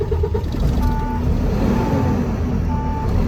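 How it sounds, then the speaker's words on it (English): A truck tractor's diesel engine runs at a loud, steady idle close by just after starting, with short intermittent beeps from the cab sounding over the rumble. "I'm going to start the engine up."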